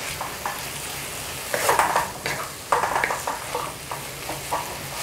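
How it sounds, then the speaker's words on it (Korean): Dried radish strips stir-fried in a pan with simmering liquid, a steady sizzle broken by clustered scraping and stirring strokes of a utensil against the pan, close and fairly loud, with no talking. "무말랭이가 이 물이 좀 충분히 볶아져서 스며들 때까지 잘 볶아주세요."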